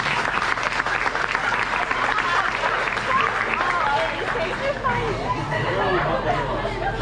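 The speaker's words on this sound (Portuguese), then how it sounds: "Vamos aplaudir os nossos atores," An audience at a church congress applauds actors after a dramatic scene: dense, sustained clapping with some crowd chatter, loud and steady throughout.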